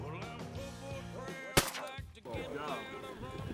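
Duck hunters fire a single loud, sharp gunshot in a Mexican hunting area. Quieter background sound and murmuring voices surround the shot.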